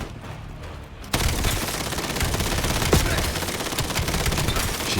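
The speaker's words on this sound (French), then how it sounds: "J'ai bien fait de prendre la mitraillette." Rapid submachine gun fire in the Black Ops 7 video game, a dense continuous burst starting about a second in and rattling on steadily to the end, loud and close.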